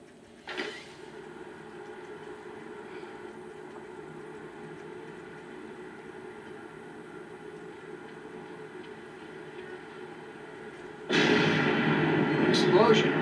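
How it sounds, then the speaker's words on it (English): In a Spider-Man 2 video game, a low, steady hum runs for a while, then a sudden loud explosion erupts near the end and keeps roaring with a rough, sustained rumble. "Explosion. Better check it out."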